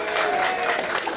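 Brief burst of audience applause at a Liar's Club game, a dense, even wash of clapping from a crowd with some voices mixed in.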